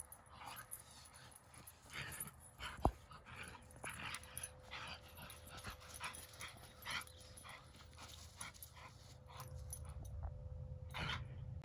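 A dog whimpers and lets out little yips, the soft whines rising and falling near the listener, with one sharp bark-like burst and some rustling in between.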